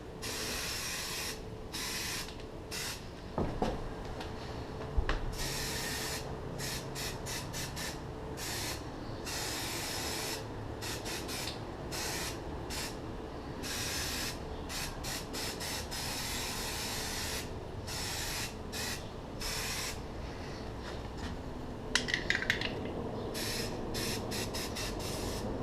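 NeverWet water repellent coating is sprayed from an aerosol can onto boots in repeated hissing bursts, some short and some long, close to the mic, with no talking.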